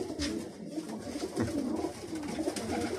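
Pigeons coo steadily in a loft in Lipetsk, a dense, murmuring chorus of low throaty calls close by and continuous throughout, with no voices.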